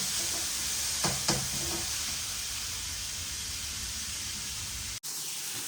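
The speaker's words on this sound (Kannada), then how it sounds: "ಎಲ್ಲ ಹಾಕೊಂಡಾದ್ಮೇಲೆ ಲೆಟ್ಸ್ ಡೀಪ್ ಫ್ರೈ ಮಾಡಬೇಕು ಚೆನ್ನಾಗಿ" Food deep frying in oil in a pan, giving a steady close sizzle and hiss throughout, with a couple of brief stirring clinks early and a sharp click near the end.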